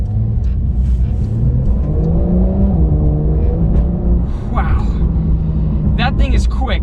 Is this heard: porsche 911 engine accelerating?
yes